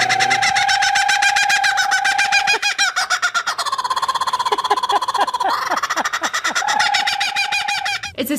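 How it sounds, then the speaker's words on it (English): A laughing kookaburra calls loudly and close, a rising chatter breaking into rapid rhythmic chuckling cackles that accelerate, waver and fade, heard alone without talk. "A laughing kookaburra's odd chuckling is sure to scare anyone"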